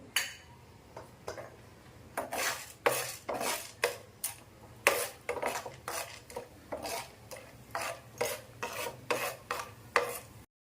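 A spoon of chana dal is dry roasted in a pan. A utensil scrapes and stirs in sharp, rhythmic strokes roughly every half second, close and clear over a quiet background.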